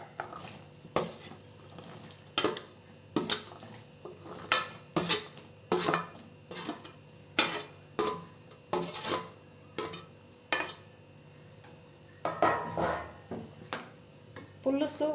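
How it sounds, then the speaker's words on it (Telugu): Okra going into a simmering tamarind broth in a pot: a string of sharp metal clinks and scrapes from a spoon against the pot, irregularly spaced and close, over a quiet bubbling background. "ఇప్పుడు బెండకాయలు వేస్తున్నాను"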